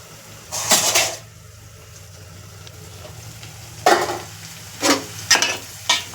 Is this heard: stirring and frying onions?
yes